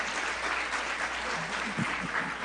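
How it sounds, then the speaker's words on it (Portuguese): Steady applause fills a church congregation, dense and even throughout, with no voices standing out above the clapping. "As palmas louvam ao Senhor por isso"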